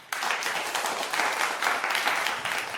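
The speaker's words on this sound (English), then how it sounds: "Round of applause, ladies and gentlemen, for our guest, please." Audience applause for a guest at a defense summit starts suddenly and carries on as a continuous wash of clapping from a large seated crowd, moderately loud with gentle swells.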